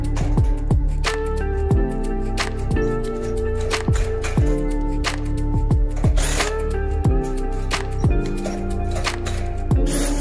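A screw is driven with a power drill into the inner corner joint of a light steel door frame for a bathroom, with a loud, steady whirring drive broken by repeated sharp clicks and scrapes of metal.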